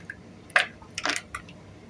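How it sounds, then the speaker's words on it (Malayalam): Two or three ice cubes drop into a glass of green mango juice, giving a few separate clinks and splashy knocks in quick succession, close and clear with no talk. "അതിലോട്ട് 2-3 ഐസ് കട്ട ഇടാം"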